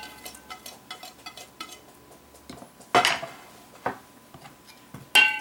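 Salmon tartare being mixed with onions, scallions, garlic, ginger and cucumber in a bowl, a series of close clinks and scrapes of a utensil against the dish, with a few sharper knocks standing out.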